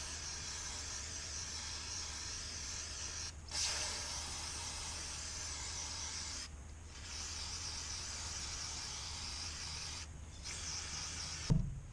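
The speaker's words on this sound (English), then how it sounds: "I'm going to just kind of spray this down with some carburetor cleaner inside" Steady aerosol carburetor cleaner spray hisses almost continuously inside lawn mower carburetors, broken by a few brief pauses, close and fairly quiet with no talking.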